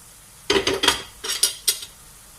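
Green chillies being mixed into tawa kaleji masala on a hot griddle: a quick run of scraping spatula strokes against the metal, with a faint sizzle underneath.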